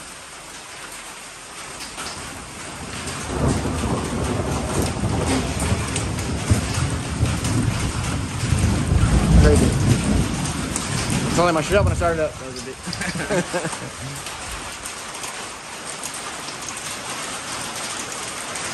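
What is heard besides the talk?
hail and rain during a thunderstorm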